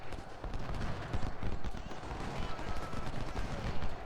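Skirmishers trade fire in Ultimate General: Civil War, a rattling spread of musket shots crackling irregularly at moderate volume, some bursts overlapping in quick volleys.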